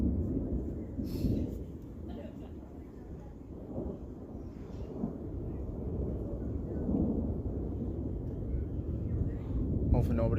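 Thunder from a storm directly overhead rolls as a deep, low rumble that swells and fades across the whole span, heard outdoors with faint background noise and no speech.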